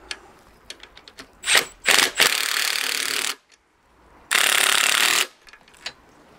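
Bolts on an MG TF subframe are nipped up with a wrench on a 13mm bolt and 15mm nut, giving close ratcheting clicks, scraping rubs and two longer grinding bursts, with light metallic taps between them and no talking.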